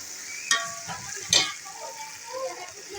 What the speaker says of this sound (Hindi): अदरक लहसुन की पेस्ट डाल रहा हूँ